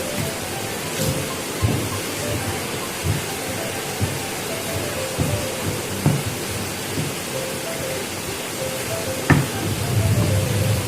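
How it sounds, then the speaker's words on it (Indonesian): Garlic and bird's eye chilies being ground with a mortar and pestle, dull rhythmic pounding thuds repeating every second or so, close and moderately loud over a steady background hiss. "Kita ulek sampai semuanya bisa tercampur dengan baik."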